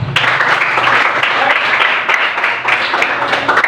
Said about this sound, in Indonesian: Oke, kita aplaus.